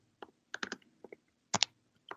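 Light, irregular tapping clicks of quick typing on a phone, a few close taps in small bursts with short pauses between.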